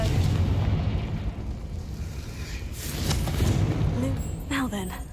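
Confringo fire-blast spell from Hogwarts Legacy, a dense, booming explosive burst that rolls on in heavy low rumble for several seconds over ambient game noise, with a brief tonal voice near the end.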